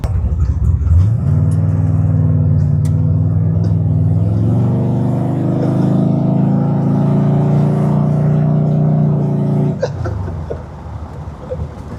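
A 1969 Ford Mustang engine hums steadily and loudly at a constant pitch while the car coasts along the road, then the drone eases off near the end.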